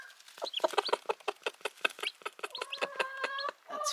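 A mother hen clucks to her chicks with a quick, steady run of short clucks, close by, shifting partway through into a rapid, more tonal calling pattern with no one talking.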